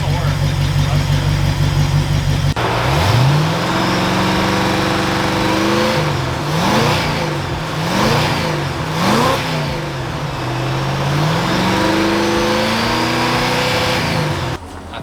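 A Ford Galaxie engine runs with its idle raised, a steady loud mechanical drone with repeated rising and falling pitch sweeps as the revs shift, heard up close.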